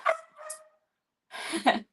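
Dogs bark in a few short, separate bursts, two quick barks followed by a pause and then a louder pair of yips, fairly close and clear with no talk over them.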